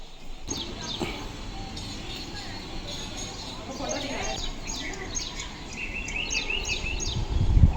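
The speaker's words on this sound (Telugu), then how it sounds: "పొద్దుగల పక్షులు చేసే శబ్దం కూడా బాగుంటాయి." Morning birds chirp with scattered, thin high calls over a steady low background near a home kitchen, the tweets growing more frequent toward the end.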